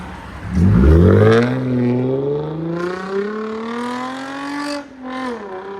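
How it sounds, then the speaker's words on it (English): A 2008 Lexus IS 250 with a 2.5L engine and fully straight-piped exhaust with tips revs hard. One loud, rising rev climbs and then holds a raspy, sustained drone before dropping off near the end, with no talking. "Lexus IS 250, fully straight piped with tips."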